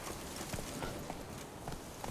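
Horse hooves in the video game The Witcher 3 beating in a quick, steady clip-clop rhythm, faint and muffled under a dense wash of background game noise.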